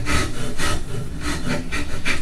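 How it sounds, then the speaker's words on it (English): Wood rasp shaping the curve of a guitar neck: close, rhythmic back-and-forth rasping strokes, roughly five coarse scrapes in quick succession, loud and dry with no speech. "Rasp to introduce some curve and sweep into here, almost an hourglass shape."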